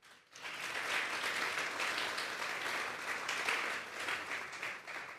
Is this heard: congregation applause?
yes